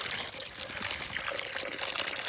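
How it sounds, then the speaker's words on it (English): Water being poured for a dog, a steady hissing splash of liquid that runs continuously and fairly loud for a couple of seconds. "And let's go give her some water."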